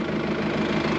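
A farm tractor's diesel engine idles steadily close by, a continuous low rumble with a throbbing pulse, with no talk over it.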